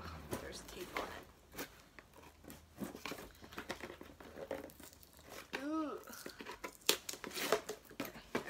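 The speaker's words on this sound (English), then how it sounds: "Let me open this. So when you, there's tape on it." Packing tape peels and tears open on a cardboard BarkBox delivery box, giving close crinkling, ripping and rustling bursts while a person talks softly throughout.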